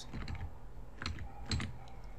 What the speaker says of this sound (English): Just using my arrows in my keyboard.